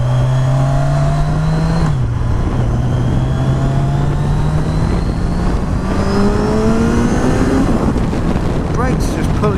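A 2016 Kawasaki Z1000 naked motorcycle accelerating on the road, its engine note climbing steadily through the gears with a brief dip at a shift, loud and close under heavy wind buffeting throughout.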